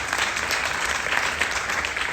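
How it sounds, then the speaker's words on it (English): An audience at a film festival conversation in Jeddah applauds Halle Berry with steady, dense clapping that holds at an even level throughout. "Another round of applause for being also a high-powered producer"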